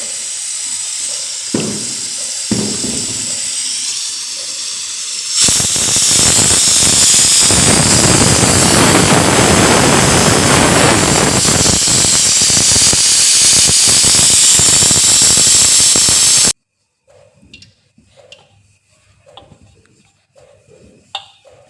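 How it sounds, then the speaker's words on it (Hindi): A kitchen pressure cooker whistles as it releases steam, a loud, sustained hiss lasting about eleven seconds that cuts off sharply, followed by faint household clatter. "बस एक सीटी भी मानो आ ही गई, थोड़ी सा एक साइड में रख दूँगी कुकर को"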